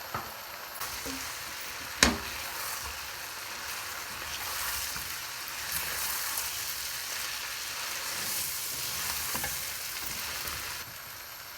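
Ginger and garlic paste for chicken korma sizzles in a hot pan with a continuous, hissing fry, a sharp clack of a utensil near the start and light stirring throughout.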